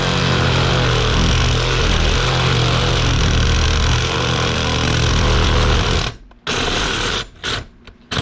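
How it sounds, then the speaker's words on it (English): A hacksaw or power saw grinds steadily through a metal ring on a Nissan 240SX tension rod bushing clamped in a vise. The cutting is loud and continuous for about six seconds, then stops and starts in short bursts. "so I can get a good bite on it with the saw"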